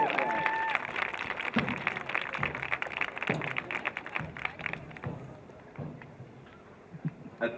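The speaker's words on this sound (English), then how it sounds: "Let's give them a big round of applause." A crowd applauds at a girls' lacrosse senior night, many hands clapping in a dense patter that thins out and fades over several seconds, with voices mixed in.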